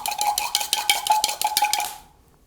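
A spoon scrapes and clinks rhythmically against a pot while chocolate is stirred in a colonial kitchen, quick repeated strokes that stop abruptly near the end.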